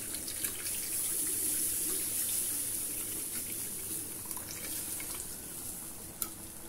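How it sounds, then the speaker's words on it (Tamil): Tamarind water poured into a fish curry in a pan on the stove, a steady wash of liquid splashing and sizzling that runs on for several seconds and settles into a softer simmer, with no talking. "இப்போ இதோடைய நம்ம கரைச்சி வச்சுருக்கிற புளி தண்ணியும் சேர்த்துடலாம்."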